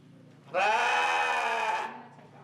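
Sheep at a county 4-H sheep show giving one loud, drawn-out bleat of a bit over a second, close by over a low background murmur.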